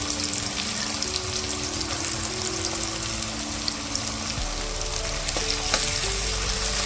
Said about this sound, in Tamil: இது வந்துட்டு நல்லா கோல்டன் ப்ரௌன் ஆகிற வரைக்கும் நல்லா நம்ம வதக்கிக்கலாம்.